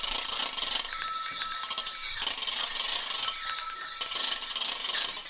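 Children scraping cymbals in a primary-school music class to imitate bicycle wheels on a road: harsh, raspy metallic scraping strokes repeat in uneven bursts with a shimmering ring between them, close and moderately loud.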